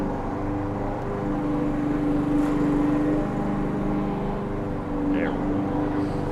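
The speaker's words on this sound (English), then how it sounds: "Sorry for the lawnmower noises." A lawn mower drones steadily somewhere outside a woodworking space, a constant mid-pitched engine hum that carries on unbroken for several seconds beneath faint background sounds.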